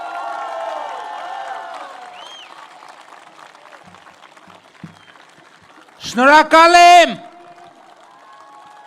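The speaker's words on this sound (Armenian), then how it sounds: "Իսկ ձեր ծափերը ողջունները ես լսում եմ հաճույքով եւ շնորհակալությամբ" A crowd greets the Armenian Prime Minister with a brief, loud burst of applause and cheering near the end. Before it comes a long stretch of a speaker's voice over a murmuring crowd, with a short spoken thanks.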